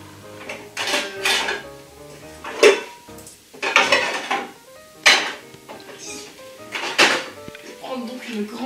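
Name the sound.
saucepan and dishes being handled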